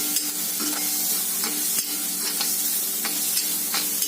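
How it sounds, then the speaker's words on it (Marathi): Bitter gourd curry sautéing in a hot pan as turmeric and salt are stirred in, a steady close sizzle broken by regular scraping strokes of the spoon, with no talking. "आता हे परतून घेऊयात मिक्स करून."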